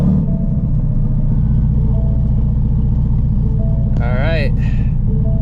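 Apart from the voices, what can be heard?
Shelby GT350 engine starting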